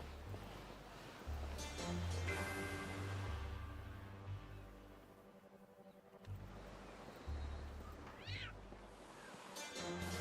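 Cats meowing near a harbor in the video game Arc Line, several drawn-out, fairly loud meows rising and falling over a soft bed of surf and wind, with a brief pause midway.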